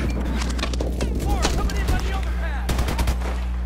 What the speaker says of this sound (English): Smart grenade, I think that was.